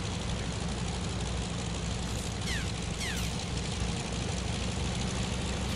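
A torpedo bomber's propeller engine drones loudly and continuously in the naval combat game Task Force: Admiral, a steady low roar with a couple of faint whistling sweeps passing over it.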